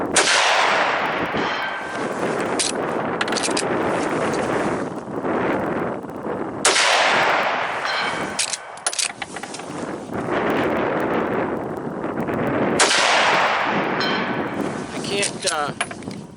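Gunshots from a 1965 Savage 99c lever-action rifle in .308, fired from a shooting bench at the range, three loud sharp reports spaced about six seconds apart, each followed by a decaying tail, with a steady wind-blown background and brief handling clatter between shots.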